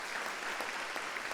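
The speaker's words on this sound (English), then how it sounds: "Another round of applause seems appropriate" A lecture audience applauds at an academic talk, a steady broadband patter of many hands clapping throughout, fairly close and even in loudness.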